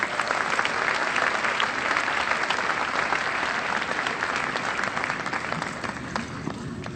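Steady applause from a community audience at a district arts festival award presentation, dense continuous clapping for several seconds that thins slightly toward the end.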